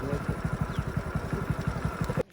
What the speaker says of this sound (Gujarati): 5 જણા છે બાઇકમાં.